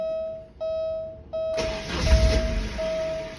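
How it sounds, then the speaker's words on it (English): A Porsche 944 S2 with a rough idle, running as if on one cylinder, cranks and catches into an uneven, lumpy low rumble while a steady electronic warning chime beeps repeatedly throughout. "It's like it's on one cylinder."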